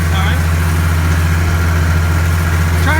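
A hay-mowing tractor engine idles with a steady low rumble and vibration, loud and close throughout, with faint background sounds over it.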